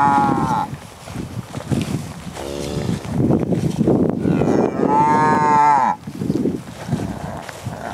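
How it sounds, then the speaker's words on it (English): Cattle on a farm moo loudly and close by in summer, several long drawn-out lowing calls overlapping one after another, with light wind noise on the microphone and no talk. "Smart cow just here, the poll cow."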